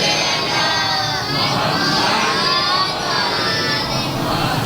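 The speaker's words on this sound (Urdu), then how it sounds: "بلند ترین نعرے صلوات پڑھ دیں آپ حضرات" A large congregation at a Muharram majlis loudly chants salawat in unison, a dense, continuous roar of many voices filling the hall without a break.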